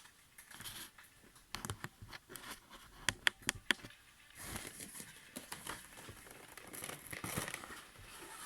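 Eaglemoss Iron Spider figurine packaging being opened, with crinkling plastic, rustling cardboard and a few sharp clicks or tears, close and fairly quiet, no talking.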